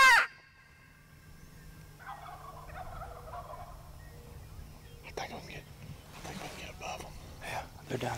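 Wild turkeys gobble during a hunt in South Dakota: a loud, close gobble opens the clip, then fainter distant calls follow while hunters whisper quietly over a hushed outdoor background.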